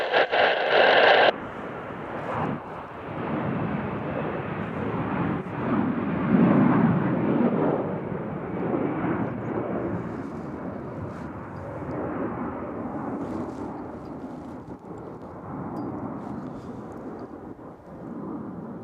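Jet aircraft taking off at CVG airport on a cold, windy day, a sustained broad distant roar rising and holding through the whole stretch, with a brief radio chirp at the start.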